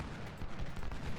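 Infantry musket volleys crackle in Ultimate General: Civil War, a rapid cluster of overlapping shots popping at mid distance in a short, dense burst.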